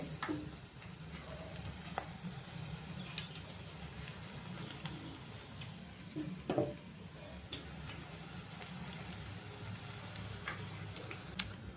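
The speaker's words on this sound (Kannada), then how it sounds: "ತಂಗಿ ಉಳ್ಳಾಗಡ್ಡಿ ಬಜ್ಜಿ ಹಾಕಕ್ಕಂತಾಳ" Onion bajji frying in oil, a quiet steady sizzle with occasional small ticks and clinks of a utensil, heard at a moderate distance.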